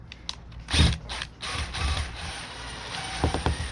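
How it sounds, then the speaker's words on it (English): Screw gun driving out small screws from a spa cover, giving a ratcheting mechanical whir with a loud burst near the start and shorter clicking bursts toward the end, close by. "Let's try it with a screw gun."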